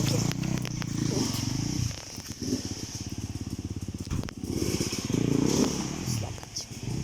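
Motorcycles approaching on a forest track, engine drone rising and falling with rapid put-put pulsing and clattering, loud and near, under faint background sounds.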